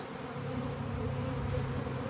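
A honey bee swarm clustered on a metal T-post gives a dense, steady buzz, close and continuous with no talking.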